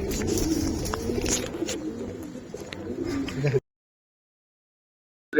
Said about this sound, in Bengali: এটা মাদি, গররা মাদি কবুতর ভাই